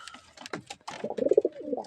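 A pigeon in a loft gives a short, throaty coo near the end of a brief stretch, following a few softer calls and rustles close by.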